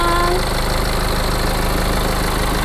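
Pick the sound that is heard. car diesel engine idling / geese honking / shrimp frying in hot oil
car diesel engine idling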